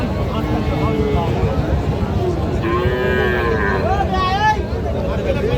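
Heifer calves moo loudly at a busy cattle market in Panchbibi, their calls rising over a constant din of crowd noise and chatter.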